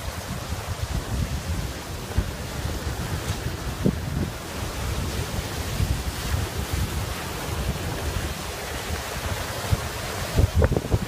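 Sea waves rolling in along a shore, a steady wash of surf heavily mixed with buffeting wind noise on the microphone, with occasional louder gusts and no talking.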